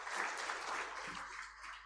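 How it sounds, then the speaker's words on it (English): Audience applause at a financial inclusion forum hosted by the Bank of Uganda, a steady, dense wash of clapping from a large crowd that holds fairly even for about two seconds. "Let's add him another round of applause."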